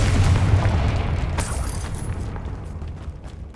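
A Confringo fire spell explodes in the Hogwarts Legacy video game, a loud deep boom that rumbles and slowly fades over a few seconds.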